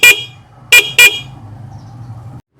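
Three loud, shrill blasts from an aftermarket Blaupunkt D72 horn on a Geely Okavango, one long toot followed by two short ones close together, leaving a low idling hum afterward.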